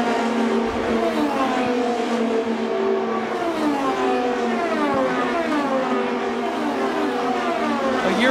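IndyCar race cars at the Indianapolis 500 slowing from high speed into pit lane, a loud continuous engine whine with several overlapping pitch sweeps as cars pass close by, with no voices.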